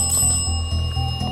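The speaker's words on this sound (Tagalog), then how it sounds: "You can tap the bell." A bell tapped repeatedly in the horror video game Zarckaroo: Haunted Hospital, bright ringing strikes about every quarter second, close and clear with no voices.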